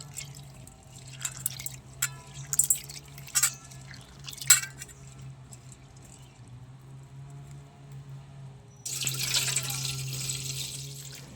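Chana dal is rubbed and washed by hand in clean water, giving soft drips, splashes and squishy swishing near the start, then a louder rush of running water toward the end.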